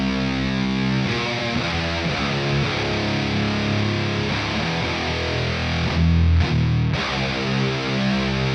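High-gain electric guitar played through a fully cranked amp, distorted almost to fuzz, rings out thick and sustained with chugging palm-muted bursts breaking up the wall of sound, loud and continuous with no voices.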